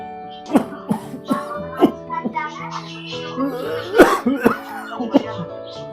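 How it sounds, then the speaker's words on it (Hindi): An elderly man coughs in a series of sharp, close coughs with throat clearing in between, mixed with a voice speaking. "दादू को बहुत खांसी चल रही है"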